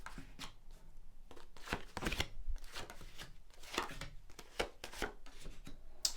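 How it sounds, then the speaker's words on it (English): Tarot cards are shuffled by hand on a table, a quick run of soft papery riffles and slaps, close and quiet, in irregular bursts. "I'm just going to shuffle and just lay down your 10 cards on the table."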